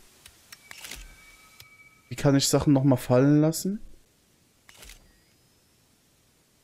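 An in-game camera in the horror game Visage clicks with short mechanical snaps at the start and again near the end, while someone speaks briefly in between.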